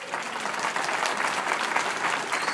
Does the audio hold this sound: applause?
yes